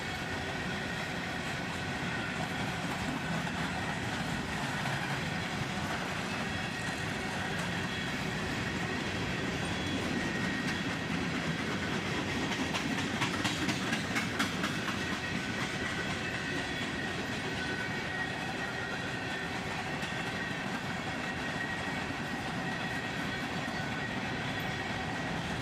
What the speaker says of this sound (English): A lot of hopper cars mixed in on this one.